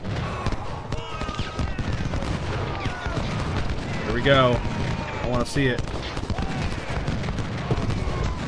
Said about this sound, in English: Oh, yeah, and the cannons are opening up.